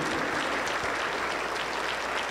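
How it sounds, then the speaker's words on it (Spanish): A congregation at a Pentecostal church service applauds in praise: thick, loud, continuous clapping that fills the room without a break, close and evenly sustained. "Aplauso para el Señor Jesús."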